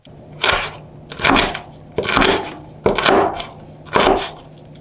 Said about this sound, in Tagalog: hiwain na natin yung mga siomay. Grabe, napakalutong talaga